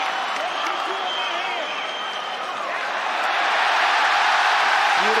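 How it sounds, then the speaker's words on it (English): A large arena crowd at a UFC fight between Makhachev and Volkanovski roars and cheers continuously, swelling louder toward the end, with a commentator talking over the noise. "Listen to this crowd."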